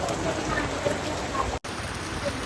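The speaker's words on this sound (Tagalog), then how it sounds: "Inaabot tayo ng ulan. Ay, lakas ng ulan." Steady, dense rain hiss fills the whole clip, a heavy downpour in Alaminos, Pangasinan, Philippines, with a constant wash of noise and a brief dropout near the middle.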